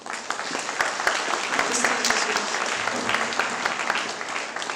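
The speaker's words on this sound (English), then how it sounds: "With a big round of applause, I would welcome both the speakers." An audience at a literary festival bursts into a big round of applause to welcome two speakers, steady dense clapping filling the hall throughout, loud and continuous.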